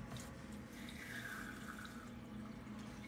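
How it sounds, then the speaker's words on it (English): A low-powered powerhead pump pours water into a 10-gallon planted aquarium, giving a steady, continuous splashing and trickling wash throughout, close and even, with no voices. "So then this is going to slowly add water, and it's not going to disturb the substrate too awful much."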